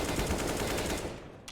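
Gunfire in a professional Counter-Strike: Global Offensive esports match, a dense continuous burst of rapid shots that stays loud for about a second before thinning out, with game ambience and no talk.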